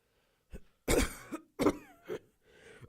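A person coughs and clears the throat several times in short, harsh bursts, loud and close, separated by brief pauses.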